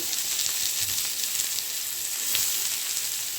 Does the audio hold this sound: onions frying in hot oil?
yes